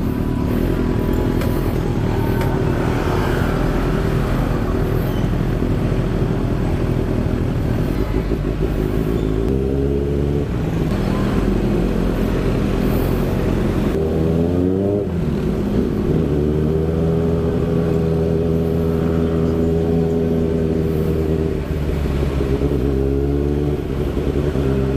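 Ridden on board through traffic, a 2024 Kawasaki Ninja ZX6R sport bike engine drones loud and steady throughout, with rising and falling revs as the rider accelerates and eases off between gear changes.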